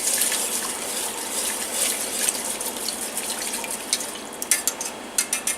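Rice is whisked into a liquid-and-sausage mixture for a casserole, giving a steady close swish and slosh with a few sharper clicks of the whisk toward the end, without any talk.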